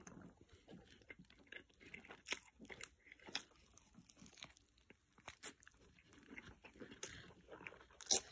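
Bites and chewing of a double cheeseburger with fries, heard up close as a run of irregular crunchy, wet mouth sounds that come and go over several seconds, with no talking.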